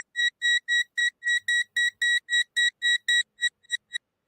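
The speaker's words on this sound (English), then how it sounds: "That's probably a very annoying beeping noise for you." A handheld meter held near a mobile phone gives a rapid, shrill electronic beep, about fifteen evenly spaced tones with no other sound behind them, and the last few are shorter and quicker.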